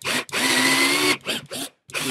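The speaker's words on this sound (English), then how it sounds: "simply take my drill, placing my side rails on a scrap piece of wood so I don't drill into my table" An electric drill bores into wooden side rails laid on a scrap board, a loud whirring grind in several bursts separated by short pauses, the first burst longest.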